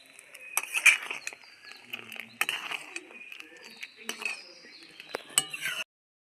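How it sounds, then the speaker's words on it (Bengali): A spoon stirring homemade tomato sauce in a pan, clinking and scraping against the metal in an irregular rhythm, close up, with a soft bubbling patter beneath and no speech. "সসটা কিন্তু অনবরত নাড়তে হবে না হলে নিচে লেগে যাবে"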